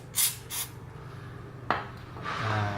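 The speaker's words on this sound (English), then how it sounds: "So you just spray a bit on here" WD-40 sprayed in two short hisses onto a motorcycle exhaust flange at the header of a Yamaha YZF-R, followed by a sharp knock and a longer rubbing, scraping sound, all close up with no talk.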